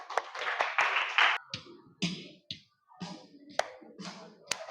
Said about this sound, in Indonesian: Tepuk tangan karena sudah menjawab